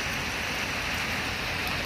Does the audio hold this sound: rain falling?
yes